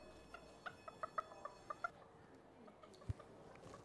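A chicken held up in a Year 4 primary science classroom gives a run of soft, quick clucks and squawks, fairly quiet amid faint room noise, followed by a single thump.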